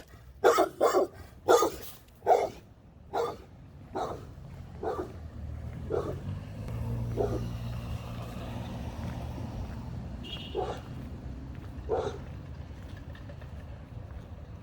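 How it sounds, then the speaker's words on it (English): A neighbor's dog behind a fence barks in a quick burst of sharp, loud barks, then slows to a few spaced, fainter barks over a low rumbling background. "It's my neighbor's dog."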